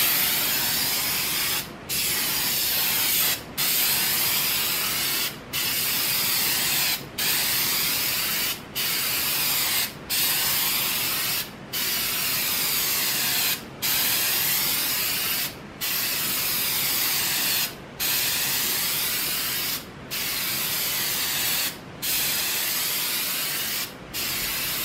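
Bed liner coating sprayed onto a homemade outdoor cook table for a cargo trailer, heard as loud hissing bursts from a spray gun, each several seconds long, separated by short regular pauses with faint clicks.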